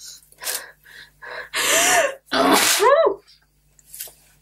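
A person takes a sharp inhale, then lets out a loud sneeze, followed by a brief second burst and a faint breath.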